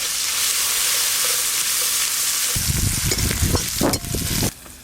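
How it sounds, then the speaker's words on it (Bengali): Chopped onion frying in hot oil in a pan, a steady loud sizzle throughout, joined late by bursts of stirring and scraping before the frying noise cuts off abruptly near the end. "পেঁয়াজ কুচিটা প্রথমে একটু ভাজা ভাজা করব"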